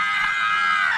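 A voice imitates a woman's shrill scream, a sustained high-pitched cry lasting about a second, loud and close with no other talk over it.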